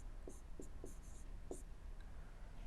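Chalk or marker writing on a board in a lecture on soil consolidation, with a few short scratchy strokes spaced irregularly over steady room hum and no talk.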